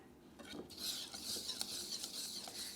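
A whisk beats soufflé pancake batter in a bowl, giving soft, quick rhythmic scraping and tapping strokes, quiet and close, with no voices.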